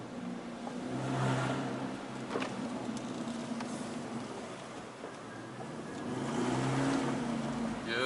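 An Aston Martin V12 with a blown, leaking exhaust pipe revs in two loud surges, the engine dropping to a rough, rumbling idle between them.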